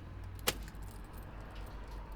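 Keys jangle in the ignition of a Citroen camper van in a single brief metallic burst near the start, followed by a quiet low steady hum.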